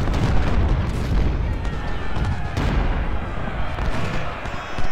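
Cannon and artillery fire on a Civil War battlefield in the strategy game Ultimate General: Civil War, Battle of Antietam, with dense, continuous rumbling booms layered over one another, loud and close.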